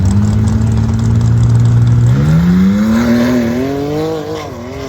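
Huligan race car making a drag pass at Roadkill Nights, its engine tone climbing steadily in a loud, close rev as it accelerates down the strip, then easing off toward the end.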